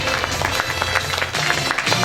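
A concert hall audience applauding at the anniversary concert of a Chuvash folk ensemble, with dense, steady clapping continuing throughout and some low murmur underneath.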